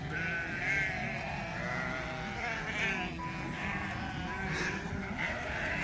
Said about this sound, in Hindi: ये देखिए, ये भेड़ें मुझे देखकर आ गई सारी की सारी यहाँ पे